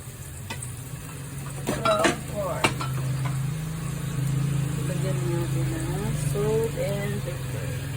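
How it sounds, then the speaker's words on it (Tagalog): Pork frying in a pan while being stirred for pancit palabok, a steady close sizzle with scraping spatula clatter and a few sharp knocks, and a voice talking over the cooking. "mix lang po natin hanggang maluto yung ating pork"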